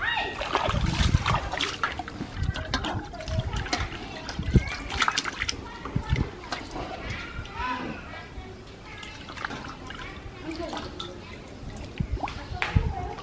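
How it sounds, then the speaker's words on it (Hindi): Water splashes and sloshes continuously as cut fish are washed by hand in a pond, close and busy with irregular splatters and trickles, with a person talking over it. "अब हम इसे अच्छी पानी से धो लेते हैं"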